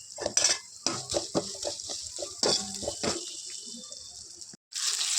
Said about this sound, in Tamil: இப்போ நல்லா கலக்கி விட்டுக்கலாம்.